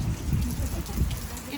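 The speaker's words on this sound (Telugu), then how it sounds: "ఈ వర్షం తగ్గుతలేదు, ఏం తగ్గుతలేదు." Heavy monsoon rain pours steadily at an outdoor wedding celebration, a dense continuous wash close by with low rumbling underneath and no clear speech.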